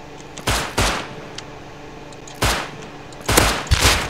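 Gunfire in the game Rust, five sharp shots in two quick pairs plus a later burst, loud and close with short gaps of quiet between them.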